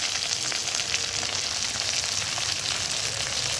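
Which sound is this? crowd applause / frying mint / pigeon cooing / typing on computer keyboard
frying mint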